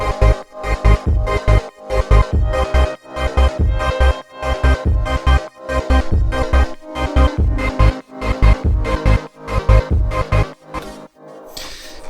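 The end section of the song at 190 tempo, a dense full mix with punchy low beats in a steady triplet-feel rhythm under bright sustained chords, loud throughout before a short tail.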